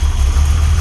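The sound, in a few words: vehicle engine running while bleeding the system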